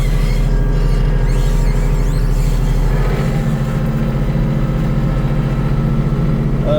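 Muffled, steady engine hum of an RK37HC tractor heard from inside its closed cab while dragging snow, a constant low drone that shifts slightly partway through.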